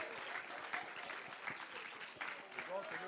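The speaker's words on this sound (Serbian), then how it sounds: "Aplauz." Applause at a bank prize-giving ceremony in Montenegro, where a Toyota Yaris is handed over as the main prize: steady clapping from a small crowd fills the whole stretch, with a few sharper claps standing out and voices murmuring beneath.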